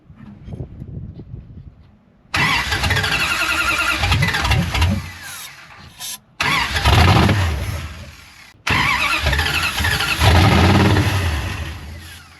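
A 1973 Dodge Charger's engine cranks in bursts, with the starter grinding in three separate loud runs broken by short pauses as it tries to catch, all up close and with no talk.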